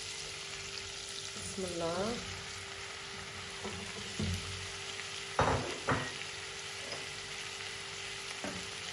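Tomatoes are added to fried onion and garlic in a pan, and the mix sizzles steadily up close with a few stirring scrapes and knocks; someone speaks briefly at the start.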